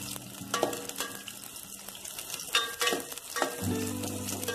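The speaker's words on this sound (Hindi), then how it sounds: "तो हमने प्याज को गोल्डन ब्राउन करना है" Onions frying in oil toward golden brown, a close crackling sizzle broken by repeated utensil knocks and stirring scrapes in an uneven rhythm, with no talking.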